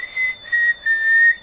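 A steady, pure whistled tone into a radio microphone, through a Blackcat JB75a single-tube mobile linear amplifier, held in three short stretches with brief gaps, close and clear, no talking.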